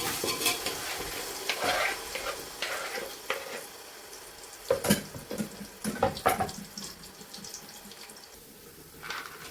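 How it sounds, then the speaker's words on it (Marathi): Soft sizzling of bananas frying in hot ghee, with intermittent scraping and stirring clatters from a spoon in the pan, close and fairly quiet. "तूप आपलं गरम झालंय. आपण त्याच्यामध्ये आता केळी घालू."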